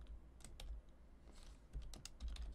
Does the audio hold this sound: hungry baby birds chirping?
no